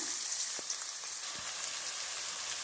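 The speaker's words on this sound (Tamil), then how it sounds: "நான் பொரிச்ச அதே எண்ணெய் சட்டியிலேயே கொஞ்சம் எண்ணெய் மட்டும் மீதி வச்சுட்டு அதில் கொஞ்சம் வெங்காயம் போடுறேன்" Chopped onions sizzle in the little oil left in a pan used earlier for frying, while making a roadside-style mushroom masala. A steady, fairly soft hiss runs throughout with no talking.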